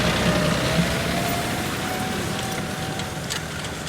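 A John Deere 5210 tractor drags an 18-disc harrow through a field, its engine a loud, steady roar with a faint whine running through it and no break from start to finish.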